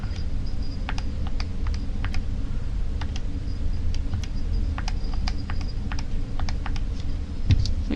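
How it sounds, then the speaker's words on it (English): Keys tapped on a calculator while a math problem about pyramid and cone surface area is worked, a quick run of sharp clicks in irregular bursts, close and clear over a steady low hum, with no talking. "if I just type it in my calculator,"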